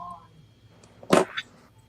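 A single sharp sneeze bursts out near the middle, close and sudden, with a short trailing exhale, amid quiet room background.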